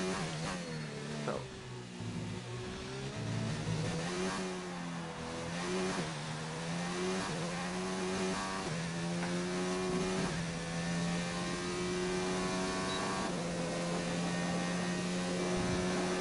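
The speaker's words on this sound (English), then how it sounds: "I do like the noise of the gusts when the DRS opens. You can hear the air." A Formula 1 car runs on track with DRS open, its high engine whine climbing and settling in steady harmonic sweeps over a continuous rush of air, with no talk.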